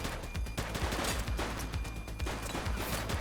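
Rapid bursts of gunfire ring out during an armed standoff in The Precinct, an 1980s-set police video game, with loud overlapping shots firing in dense, uneven volleys throughout.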